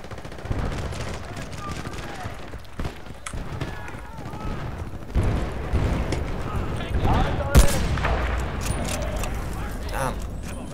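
Repeated gunfire in the shooter game Battlefield: Bad Company 2, with sharp close shots and bursts scattered across the scene over a loud battle din, while people talk throughout.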